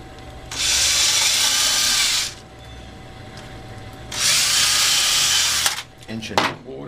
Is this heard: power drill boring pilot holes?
yes